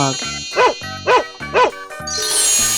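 Three loud, evenly spaced barks from a dog in a 3D animal slide game ring out over a plinking game tune, ending in a shimmering chime.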